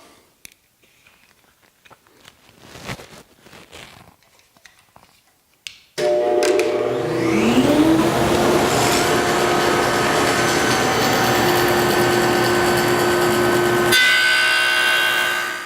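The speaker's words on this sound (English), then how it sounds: "I've got the dado stack raised up to take these little shoulder pieces off" A table saw with a dado stack raised to cut shoulders off wooden tenons spins up after a few seconds of faint shop noise, then roars loudly and steadily through the cut and winds down at the end.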